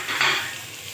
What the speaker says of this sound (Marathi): आपल्याला ही थोडी 2 ते 3 मिनिट परतवून घ्यायची आहे भाजी